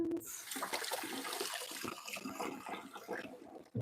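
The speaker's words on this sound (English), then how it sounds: "I'm gonna wash my hands" Running tap water splashing steadily over hands in a kitchen while baking cookies, a close, continuous hissing wash with small fluctuations, ending abruptly as the tap shuts off.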